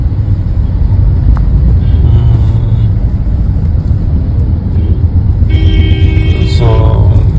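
A car travels on the road near Bangalore, filling the whole stretch with a loud, constant engine and road rumble and faint higher hums drifting over it.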